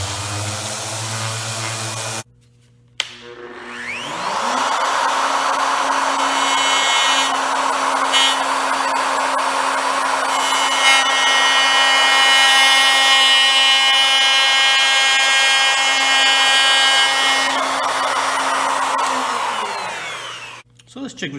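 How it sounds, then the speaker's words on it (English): An orbital sander runs on a wooden tabletop in a joinery workshop. After a brief start-up, its steady, loud whirring hum holds for about eighteen seconds before winding down. "I'm going to also go over it with the orbital sander and see if we can just improve the surface a little bit better"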